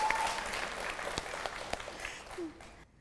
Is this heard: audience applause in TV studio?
yes